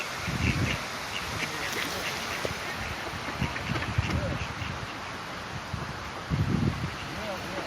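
Ducks quacking outdoors in a woodland setting, short bursts of quacks rising and falling over a rustling, breezy background, with people talking at times.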